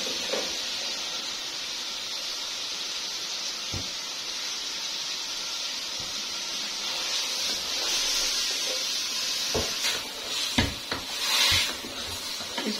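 A steady hiss runs from washed, wet mixed vegetables (fenugreek, carrot and peas) hitting a hot pan, with a few sharp knocks and a louder sizzling flare near the end.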